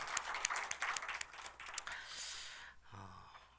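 Church congregation clapping during a Sunday morning worship service, a short burst of quiet, scattered hand claps that quickly dies away, followed by a faint low tone.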